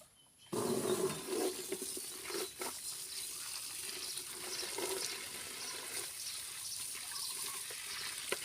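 Tap water runs steadily onto wild pak wan pa seeds being washed in a sink, a continuous close splashing rush that starts abruptly after a brief quiet moment and carries on alone without speech.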